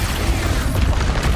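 Expulso spell blast in the video game Hogwarts Legacy, a loud, deep booming explosion with a rumbling low end that fills the short moment, no speech over it.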